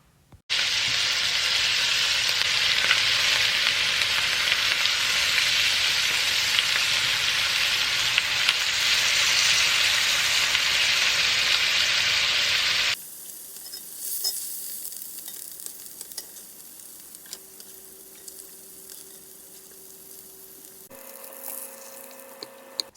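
Salmon fillet searing in a pan for a jerk-seasoned salmon rice dish, giving a loud, steady broadband sizzle for about thirteen seconds that then drops away, leaving quieter kitchen clatter and faint tones.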